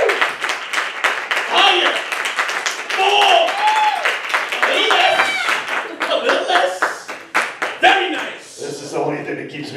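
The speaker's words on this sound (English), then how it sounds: "Give me a round of applause, crowd." Live game-show crowd clapping and cheering in bursts, mixed with laughter and a host shouting over it, with talk throughout.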